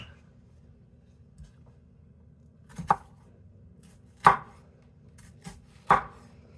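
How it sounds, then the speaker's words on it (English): Knife chopping through ceviche ingredients on a cutting board, slicing them very thin: a few sharp, separate cuts spaced about a second apart, close and fairly clear over a low background hum. "So it does want it sliced very thin."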